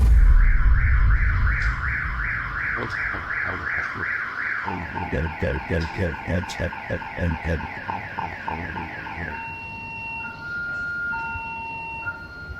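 A loud electronic house alarm cycles through warbling, pulsing tones, then shifts to steady repeating beeps, ringing on its own without voices.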